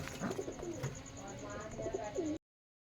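Rajshahi Giribaz pigeons cooing nearby, soft throaty coos rising and falling over a faint background bustle and a thin steady whine, ending abruptly in silence.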